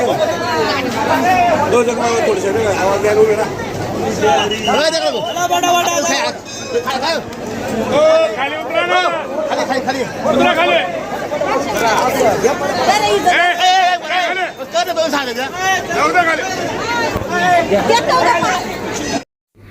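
Loud close crowd chatter of village devotees gathered at a temple for a palkhi procession, many overlapping voices talking continuously.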